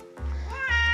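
A pet cat named Sushi gives two close, clear meows, a short one followed by a longer rising-and-falling cry, with quiet room sound between.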